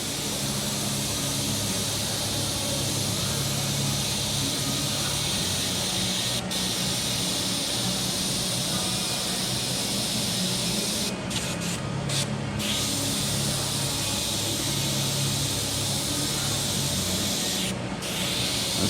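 An airbrush sprays paint onto a skull in soft, even passes, making a steady close hiss that runs almost without a break, with a few brief cutoffs as the trigger is released.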